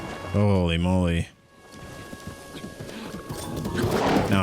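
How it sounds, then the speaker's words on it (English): Rain falls in the video game The Legend of Zelda: Breath of the Wild on Switch 2. A loud, brief voiced call opens, then a soft hiss of rainfall builds steadily louder. "Now it's raining, which definitely doesn't help our case."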